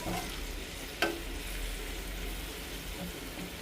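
Paneer cubes frying in a pan over medium flame, a close, steady crackling sizzle with one sharp scrape or clink of a utensil about a second in.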